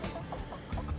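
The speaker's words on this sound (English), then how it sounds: "There's my chickens." Backyard homestead chickens make soft, scattered clucks nearby, a few low murmuring calls over a quiet outdoor background.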